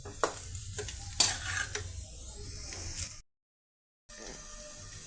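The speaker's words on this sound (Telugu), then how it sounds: "వీటిని ఇలాగే ఒక 2 నిమిషాల పాటు ఫ్రై చేద్దామండి మీడియం ఫ్లేమ్ మీద." Potato pieces fry on a medium flame with a close, crackling sizzle and a few sharp pops. The sizzle cuts out briefly and then resumes. No talking.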